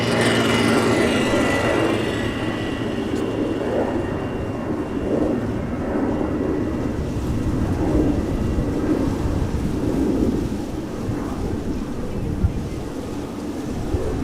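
A China Southern Cargo Boeing 777 freighter departs Amsterdam Schiphol in dry but gloomy weather, its broad jet roar rumbling steadily and loudly throughout without a break.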